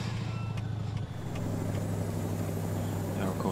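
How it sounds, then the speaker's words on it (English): A Kenworth K100E truck hauling six tons of contaminated chemicals drives along in Euro Truck Simulator 2, its engine a steady low drone with a brief dip near one second, continuous and close throughout. "driving the Kenworth K100E and we've got that uh, six ton of chemicals contaminated material"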